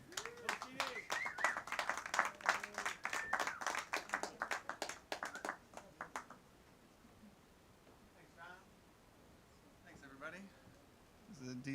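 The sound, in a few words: audience applause welcoming a performer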